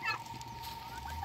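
Chickens clucking softly, a short burst of low fowl calls with a steady tonal hum underneath.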